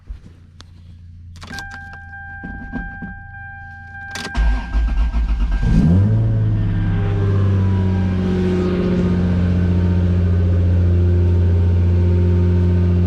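A Lexus SC300 engine with newly installed longtube headers and faulty O2 sensor readings cranks after a few clicks and a faint electronic tone, then catches and settles into a steady, deep idle, close and loud.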